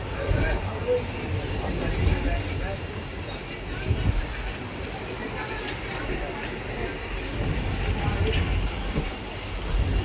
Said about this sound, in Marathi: त्यानंतर आलो आपण परळी वैजनाथच्या रेल्वे स्टेशनवर.